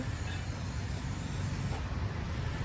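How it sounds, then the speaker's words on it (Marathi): Spray paint hissing in a garage as a thin coat is applied, a steady, loud, close hiss that runs unbroken through the whole stretch with no talking. "पहिले स्प्रे असा हलवून घ्यायचा, जरा मोकळं होते नाही का, घट नाही फेकत. आता पातळ फेकणार."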